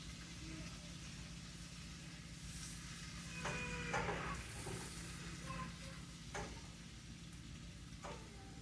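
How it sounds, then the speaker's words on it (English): Vegetables frying in butter in a pan as they are stirred, a steady low sizzle with scattered scraping clicks and a few sharper utensil knocks, fairly quiet and continuous. "I just stir it around to make sure all the butter gets onto the vegetables as they're cooking"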